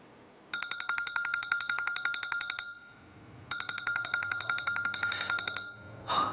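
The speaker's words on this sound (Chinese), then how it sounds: "公司的电话，我出去接一下。" A phone rings with an electronic ringtone in two bursts of rapid repeating tones, close and clear, with a short pause between them and a brief noise at the end; no one speaks.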